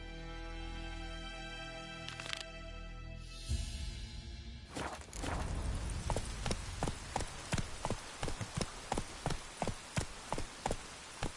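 Hooves of Roach, the horse in The Witcher 3, gallop in a steady, close, regular clip-clop rhythm after music fades out, growing louder and continuing to the end.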